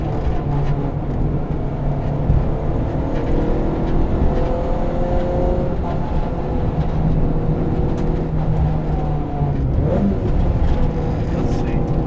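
K24-swapped Honda Civic EG hatch pulling hard out of uphill hairpins, its engine droning loud and steady from inside the cabin with rising and falling revs, someone talking over it.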